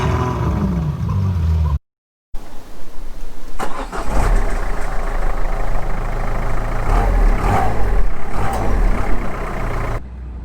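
Diesel car engine starting from cold: after a short cut, the starter cranks and the engine catches into a loud, rough idle that stays steady and close, with a faint voice briefly underneath.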